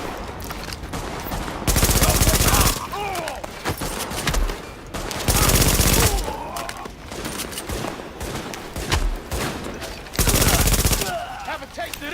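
Bursts of automatic gunfire in The Division ring out in repeated loud volleys, separated by quieter stretches of scattered shots and game sounds, while a voice speaks in places.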